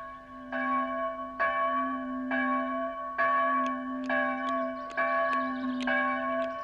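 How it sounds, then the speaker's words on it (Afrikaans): Church bells ring overhead in a repeated, steady sequence of resonant strokes, each one's tone hanging on under the next, with no voices. "Die klokke lui daarbo, raai bietjie waarom hulle nou so lui."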